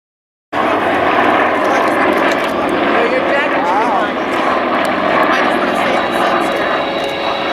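Propeller aircraft flying formation aerobatics at an air show: a loud, steady engine drone that starts abruptly and holds for several seconds, with a faint voice under it.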